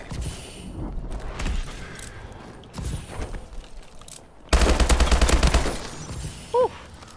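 Rapid automatic gunfire from the HVR Insanity elite gun in Call of Duty Advanced Warfare, a loud sustained burst after quieter game noise, with a short shot near the end.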